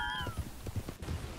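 Horse hooves in the video game Red Dead Redemption 2 clip-clop in a quick, steady series of thumps over a brief stretch, with faint game ambience behind them.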